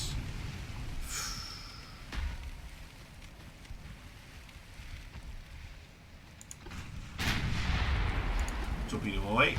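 Naval gunfire from warships in the naval battle game Ultimate Admiral Dreadnoughts: two or three booming salvos rumble out over steady wind and engine noise, with a louder blast building near the end.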